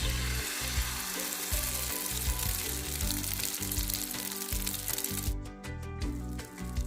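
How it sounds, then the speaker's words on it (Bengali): Egg frying in hot soybean oil in a pan, a dense continuous sizzle and crackle throughout with a low rhythmic rumble underneath, close and fairly loud, no voices. "তেলটা ভালো করে গরম হয়ে গেলে এখন ডিমটা দিয়ে নিব"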